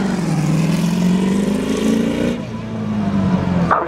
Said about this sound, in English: That was car number 14, David Frost.